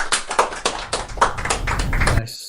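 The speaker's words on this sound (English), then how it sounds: "Perfect time to clap." An audience claps in a quick, irregular burst of sharp hand claps, loud and close, lasting a couple of seconds before cutting off abruptly.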